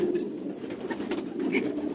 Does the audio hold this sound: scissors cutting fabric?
no